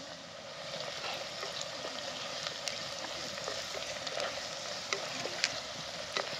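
Onions frying in oil until browned, with salt and turmeric added, for dry mutton, a steady crackling sizzle with sporadic sharp pops and light spoon ticks, close and alone without talk.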